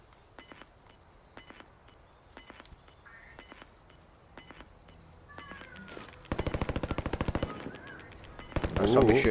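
Video game gunfire, first as faint short bursts of shots in the distance, then a louder rapid automatic volley near the end, over a quiet background with a steady high electronic tone.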